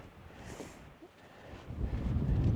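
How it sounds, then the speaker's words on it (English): Wind buffets the microphone on the exposed slopes of Lonscale Fell via Jenkins Hill in the Lake District, a broad low rumble that swells and gusts louder toward the end, with no talking. "There we go, and there's the wind."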